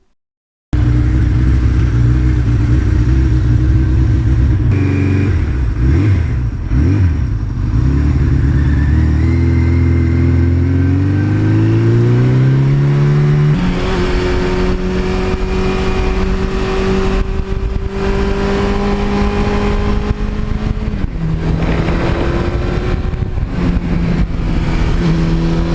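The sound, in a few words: Suzuki GS1100E motorcycle engine revving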